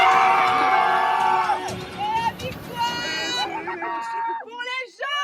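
People shout, whoop and cheer together during an outdoor team game between red and yellow teams, loud and lively at first then thinning into scattered calls and excited voices.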